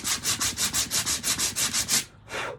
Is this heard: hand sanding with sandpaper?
yes